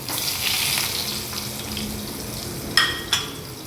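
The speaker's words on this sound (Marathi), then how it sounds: "आता या सेटला आपण बटाटे टाकणार आहोत बटाट्याच्या कतल्या" Potato slices sizzling in a hot pan, a steady close hiss with a couple of sharp clatters near the end as more slices drop in.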